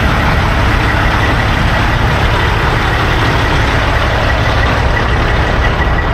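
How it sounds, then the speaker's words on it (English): Heavy trucks idle at a Pilot Flying J truck stop, a loud, steady low diesel rumble filling the scene without pause or speech. "y'all can see this is the truck stop"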